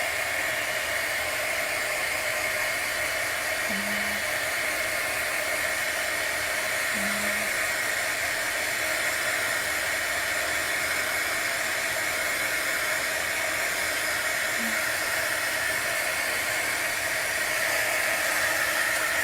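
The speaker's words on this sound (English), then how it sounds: "And this is a heat gun" A heat gun blows steadily with a loud, constant broadband rush and hiss, running unbroken for the whole stretch with no talking.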